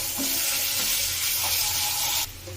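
Chopped onion sizzles loudly in hot oil with bay leaves and pepper, a dense steady hiss that drops off abruptly near the end, with no talking.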